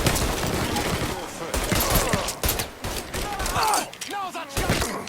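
Dense gunfire in the video game Mafia III, with rapid bursts and overlapping shots rattling continuously at close range, while voices shout over the shooting.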